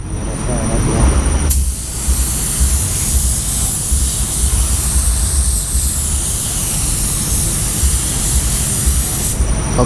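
Spray gun laying down a first coat of primer on a truck, worked outdoors without a booth: a steady, loud hiss of atomized spray starting after a short pause and running continuously for several seconds over a low background rumble.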